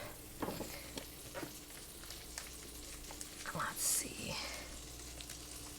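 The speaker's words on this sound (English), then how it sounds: "we're going to let that butter melt" Unsalted butter melts in a pot on the stove, giving a soft, steady low sizzle with faint stirring and light clinks, fairly quiet throughout.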